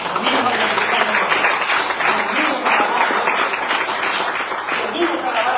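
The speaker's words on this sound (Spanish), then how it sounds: "Démosle palmas al Señor, hermano." A church congregation claps steadily and continuously throughout, a dense wash of many hands with voices mixed in.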